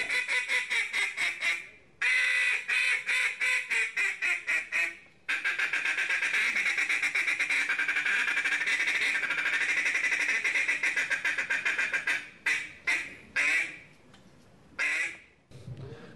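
A duck call blown at the Louisiana State Duck Calling Championship gives loud, close quacking runs: rapid pulsed sequences, long sustained feeding chatter and short trailing quacks, with no talking.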